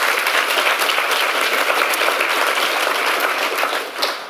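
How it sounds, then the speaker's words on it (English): Audience applause at a fiction prize award ceremony in Toronto, a steady, dense wash of many hands clapping close and loud, tapering slightly at the end. "So let's clap for Kimberly."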